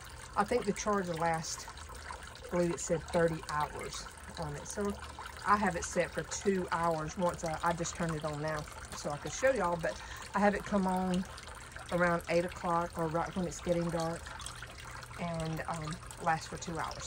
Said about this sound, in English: the noise you're hearing is my little water fountain I've had for years